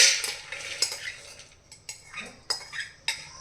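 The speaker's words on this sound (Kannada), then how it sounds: "ಈಗ ಒಂದು ಪಾತ್ರೆಯಲ್ಲಿ ಹೆಸರುಕಾಳನ್ನ ಹಾಕ್ತಾಯಿದ್ದೀನಿ." Dry green gram poured into a metal cooking pot gives a run of sharp, close clinks and rattles, several distinct knocks standing out over a scattered patter as the beans land.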